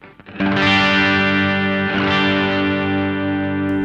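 A sustained electric guitar chord rings out through a gritty, overdriven amp, loud and close, holding steady for several seconds.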